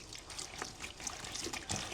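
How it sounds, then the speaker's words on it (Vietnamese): Water trickles and pours into a basin holding fish maw and tapioca starch for washing, a soft, steady splashing that sounds quiet and close. "Sau đó thì mình sẽ cho nước vào rửa."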